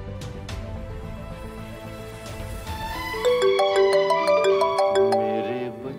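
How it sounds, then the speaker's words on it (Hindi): A mobile phone ringtone for an incoming call plays a bright, repeating electronic melody that swells louder midway, over a low background bed of music and murmur. "मेरी अम्मी जान का फोन आ रहा है इस्लामाबाद से"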